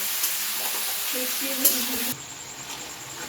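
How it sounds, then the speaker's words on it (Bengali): Chicken pieces fry in a pan with a close, steady hissing sizzle that drops to a softer level partway through, while a voice murmurs briefly over it. "এটা জল ছাড়ুক, এটা ভাজা ভাজা করে একটু লাল হোক চিকেনটা"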